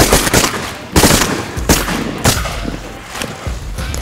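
Shotgun blasts during a Canada goose hunt, four loud sharp reports spaced about a second apart, each with a broad burst and short ringing tail over outdoor ambience.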